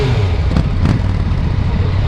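Yamaha FJ-09 motorcycle engine on a ride, a loud, steady low rumble with wind noise, continuous and close for the brief moment.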